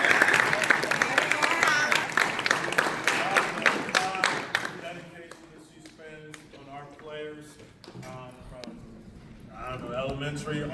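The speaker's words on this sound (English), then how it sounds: "We need to give her a round of applause." Audience applause at a boys basketball end-of-season awards banquet, a burst of loud clapping that tapers off into scattered claps and crowd murmur.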